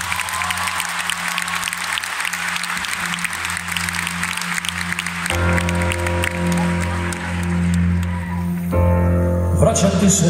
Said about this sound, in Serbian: Ja veliki aplauz samo za moj bend, ja vas molim.